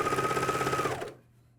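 A MyLock 454D serger stitching a pajama top runs in a fast, steady whir for about a second, then stops, leaving a faint low hum.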